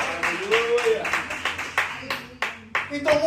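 A church congregation at Igreja de Nova Vida do Catete claps in uneven bursts of applause while a voice keeps talking over the clapping.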